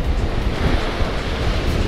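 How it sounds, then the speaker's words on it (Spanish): Rough, churning sea surf at Playa Unión beach roars steadily without pause, a dense broadband wash of breaking waves mixed with wind buffeting the microphone. "mar está bastante movido"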